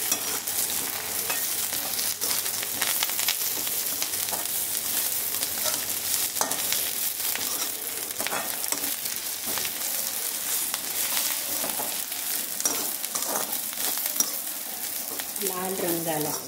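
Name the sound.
garlic, ginger and masala roasting in a pan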